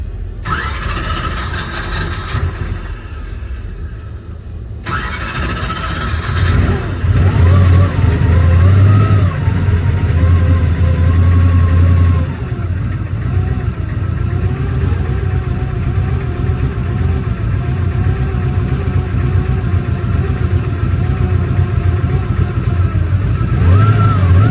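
A race car engine, checked for a possible bearing fault, cranks with a whirring starter and then fires up. It settles into a loud, rough idle with repeated revs close by.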